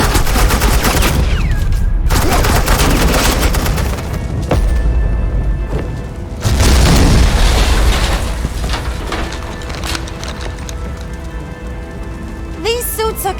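Suppressing gunfire in a Batman video game, dense rattling bursts of automatic fire and impacts that surge and ease over the whole stretch, loud and close, with game voices and music mixed in.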